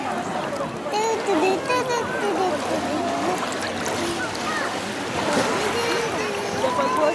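Sea water at Fig Tree Bay sloshes and splashes continuously nearby, with lively voices of people in the water over it.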